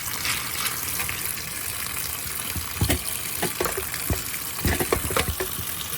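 Tap water runs steadily into a sink over pinto beans being rinsed, a constant close splashing gush with a few soft knocks and clatters near the end.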